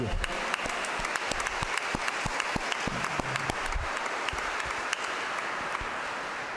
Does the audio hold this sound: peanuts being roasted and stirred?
no